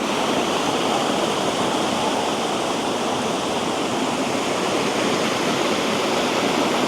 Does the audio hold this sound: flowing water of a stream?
yes